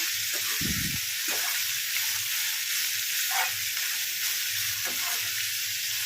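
Goat tripe (boti) fries in hot oil with an even, continuous sizzle close by, broken by a couple of soft low knocks from the pan or spoon, with no voices.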